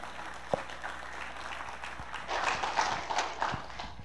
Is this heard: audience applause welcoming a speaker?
yes